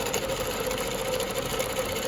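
A longarm quilting machine stitches with rulers along a Baptist fan pattern, a steady mechanical hum with a fast, even motor whir running continuously up close.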